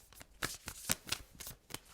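Tarot cards riffled and shuffled by hand in a run of crisp, papery bursts, about eight quick shuffles in two seconds, close and fairly soft with no voices.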